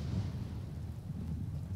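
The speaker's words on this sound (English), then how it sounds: "it's definitely got wind, but it's also got a little bit of rain coming down" Wind and light rain in the game Empyrion make a steady low rumbling wash of noise, brief and even, with no voices over it.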